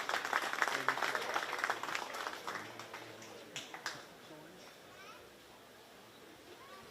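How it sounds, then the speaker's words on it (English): Brief, fairly faint applause from the crowd at a 4-H beef show at the Shelby County Fair after a market heifer class, with scattered claps under voices and children, thinning out after a few seconds. "Let's give them a round of applause, please."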